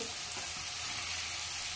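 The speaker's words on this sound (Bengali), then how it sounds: "সবজিগুলো একটু একটু ভাজা হয়েছে, এবার এর মধ্যে কেটে রাখা পেঁয়াজটা দিয়ে দেব" Winter vegetables and chopped onion fry in a pan for hakka noodles, producing a brief, steady broadband sizzle that is close and even throughout.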